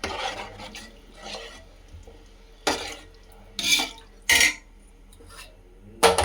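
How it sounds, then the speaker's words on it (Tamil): Spoon stirring yogurt and water in a cooking pot, several short scraping and clinking strokes against metal, close and fairly quiet, with no talk. "நல்லா கலக்கி விட்டுட்டு"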